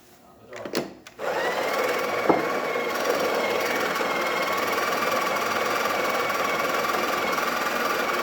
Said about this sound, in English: So let's go ahead and test it and make an espresso shot on it.